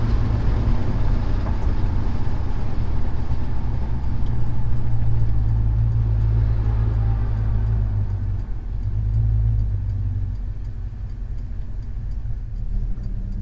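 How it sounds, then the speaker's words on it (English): Truck fitted with an Edelbrock Performer 1406 carburetor accelerating from a dead stop toward 60 mph, heard as a loud, steady low engine and road drone that holds throughout with no break. "I'm going to pull over here and then we're going to go to from a dead stop to basically"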